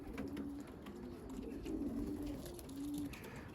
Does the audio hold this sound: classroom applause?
no